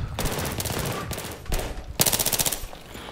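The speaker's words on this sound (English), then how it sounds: "I'd put my gun on single fire and not realised." Gunfire in Battlefield 3: several bursts of rapid automatic shots, loud and close, with a sharp rattling volley near the end and brief pauses between bursts.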